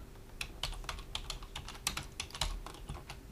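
Typing a title on a computer keyboard in AutoCAD, a quick irregular run of light plastic key clicks, close and fairly quiet, with no voices.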